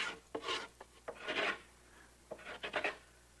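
A wooden transom's bottom edge being beveled on a small sailboat build, heard as rasping, scraping strokes in uneven bursts, some long and some short, close by and moderately loud with no talk.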